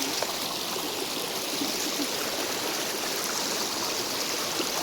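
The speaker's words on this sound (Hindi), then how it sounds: "ये देखो पानी" Cold stream water flowing steadily outdoors on a hot-day walk toward a waterfall, a continuous close rushing wash with no break for about five seconds.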